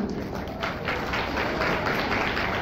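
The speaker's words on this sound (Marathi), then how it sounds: "जरा जोरदार टाळ्या होऊन जाऊ दे." Guests at a Marathi engagement ceremony clap in a dense, steady patter that fills the room and holds at an even level throughout.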